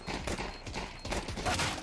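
Gunfire in a first-person shooter, several rapid sharp shots in quick succession, close and punchy over a dense game soundscape.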